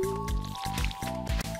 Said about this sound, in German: Ich mach gerade noch die Kanne voll.